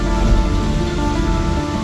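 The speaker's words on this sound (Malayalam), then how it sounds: "ഭയങ്കര മഴ പെയ്തുകൊണ്ടിരിക്കുകയാണ് ഇപ്പം" Heavy rain pours steadily while travelling by vehicle near Muvattupuzha in Kerala, a dense close hiss of falling water layered over a constant low engine hum, with no talking.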